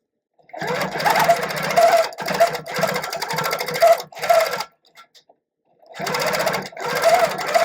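A quilting machine stitching through two layers of fabric, running in loud, fast bursts of mechanical whirring separated by short pauses and a longer silence near the end.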